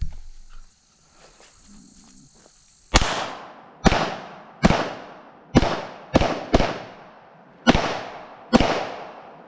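A series of eight sharp, loud gunshots from a Glock 44 pistol fired at uneven intervals, each a crisp crack with a short ringing decay, after a quiet lead-in.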